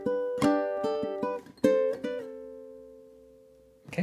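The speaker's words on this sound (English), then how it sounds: "Alright, so let's put the entire measure together now." A ukulele plays one full measure of a cute Disney-inspired tune, several plucked notes and chords, then a final chord left ringing and slowly fading. It is close and solo.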